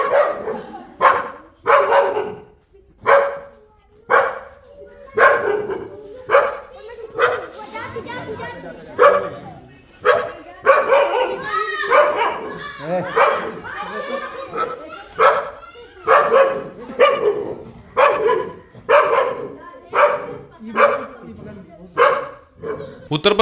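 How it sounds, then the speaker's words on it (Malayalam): Three dogs barking again and again at a black snake on a crowded village street in Shravasti district, Uttar Pradesh. The sharp, close barks and yips come in rapid bursts with voices mixed underneath. "നായ്ക്കളുടെ കുരകേട്ട് നാട്ടുകാർ കൂടി."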